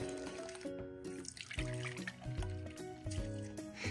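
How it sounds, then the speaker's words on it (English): Hot milk mixture is poured slowly into beaten eggs for crème caramel, a soft liquid pour with gentle dribbling and splashing heard throughout, partly under steady background music, with no talking. "Slowly pour the hot milk mixture into the egg mixture while"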